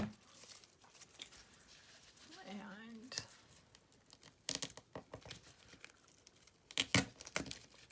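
Scissors snipping yarn while trimming a handmade yarn carrot, heard as faint, scattered close-up cuts and rustles. Soft, brief handling noises fill the gaps between them.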